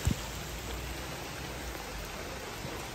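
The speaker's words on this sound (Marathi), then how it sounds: "पाऊस जरा स्लो झाला आहे आता" Rain falls in a Kokan village, a soft even hiss of drops heard at a distance, faint and steady, with a brief low thump at the start.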